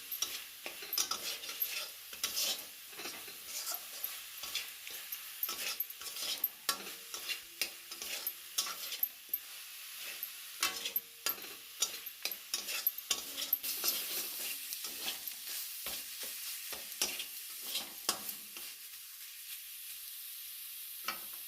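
Masala and tomatoes sautéing in a pan for a home-cooked chicken curry, with a steady sizzle and frequent scraping, stirring strokes of a spoon against the pan throughout, fairly close, with no talking.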